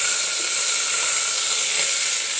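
Steady, bright sizzling of green chilies frying in hot oil, a continuous crackling hiss with no voices.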